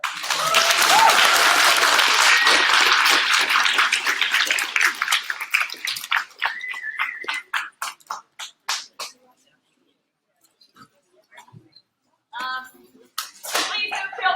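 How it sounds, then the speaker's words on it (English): An audience at a film and panel event on a university campus applauds loudly, then the clapping thins to scattered individual claps and fades, followed by brief talk. "Another round of applause for"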